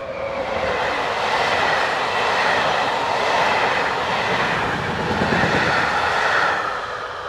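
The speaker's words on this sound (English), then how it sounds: "151027 heads south with a train from Heb" Czech Class 151 electric locomotive 151027 rolls south along the Elbe valley near Usti nad Labem with a train from Cheb, a steady loud roar of wheels and carriages with faint clickety-clack, sustained throughout.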